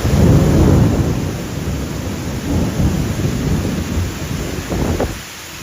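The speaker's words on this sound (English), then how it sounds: "Rain fell in extraordinary volumes." Heavy storm rain pours down in France in a dense, constant roar, with low rumbles of thunder rolling underneath before it briefly eases at the end.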